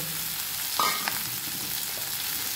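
Potato and bitter gourd fry in a hot pan with an even, moderate sizzle and a brief clatter as pieces land or are stirred.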